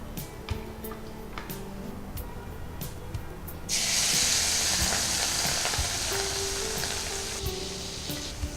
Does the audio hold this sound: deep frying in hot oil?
yes